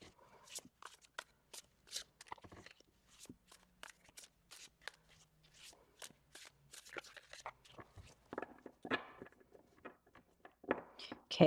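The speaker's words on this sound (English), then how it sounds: "Okay, so I've given it a good shuffle." Tarot cards are shuffled by hand in a quiet room, a series of quick, crisp riffles and soft slaps in irregular bursts, close and fairly faint.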